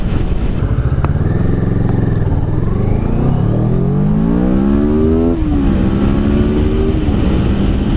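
A 2016 Kawasaki Ninja 650 accelerates hard from a standstill, its engine note climbing steadily through several gears with brief dips at each shift, loud and close over constant wind rush.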